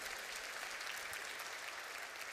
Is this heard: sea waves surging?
no